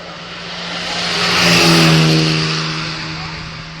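A classic car accelerates up a hill, its engine note rising and swelling as it approaches and passes close by, then fading away.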